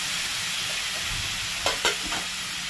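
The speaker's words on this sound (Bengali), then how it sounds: "এখন এগুলো দিয়ে কষানোর পালা" Vegetables, including ridge gourd, sauté in a pan for a prawn dal: a steady close frying sizzle, with two or three quick scraping stirs of a spatula late in the clip and no voices.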